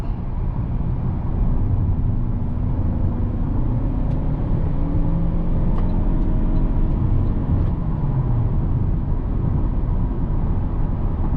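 A Toyota Camry SE cruises along with a steady, subdued cabin hum of engine and road noise, smooth and continuous, a faint rising tone drifting through midway, no talk.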